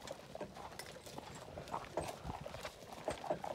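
Draft horses pulling a load clip-clop at a walking pace, with irregular hoof strikes over a low background rumble, moderately faint and without talk.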